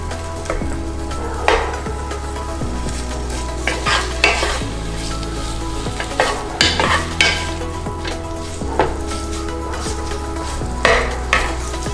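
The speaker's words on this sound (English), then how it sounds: "I have the stove on high heat. You can hear the bacon sizzle." Bacon sizzling and frying in a soup pot on a stove at high heat, a steady loud crackle throughout with frequent stirring scrapes and occasional clinks of a utensil against the pot, no talking.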